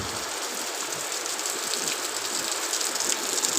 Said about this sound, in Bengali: আমাদের এখানে খুব বৃষ্টি হচ্ছে